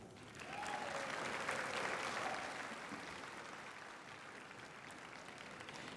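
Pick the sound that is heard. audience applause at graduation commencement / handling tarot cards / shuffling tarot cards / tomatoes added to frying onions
audience applause at graduation commencement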